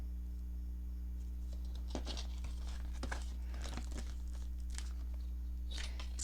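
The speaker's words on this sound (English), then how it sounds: "because this is so thick, scoring won't work, so I am just going to fold it over" Thick page of a Little Golden Book folded over by hand: faint, close crinkling and crackling bursts come in several short irregular bursts over a low steady hum.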